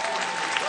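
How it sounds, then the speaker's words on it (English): A stand-up comedy audience claps in a dense, even burst of applause, loud and close, lasting under a second with no talking over it. "Thank you for clapping."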